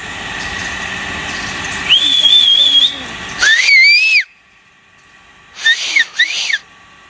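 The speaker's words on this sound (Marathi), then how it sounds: "आपण जरी शिट्टी वाजवली तरी मगरी येतात" A person whistles sharply in short bursts to call crocodiles at a crocodile point in Maharashtra: one long warbling tone, then a rising whistle, then two quick whistles after a pause, with quiet hiss between.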